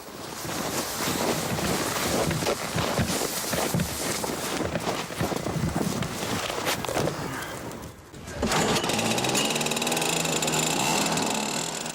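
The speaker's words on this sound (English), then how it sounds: "John Halfpenny prefers to let the snowblower do some of the work, at least the sidewalks" A snowblower clears snow along a sidewalk during the 1993 blizzard, its motor giving a loud, continuous droning roar that dips briefly and then resumes.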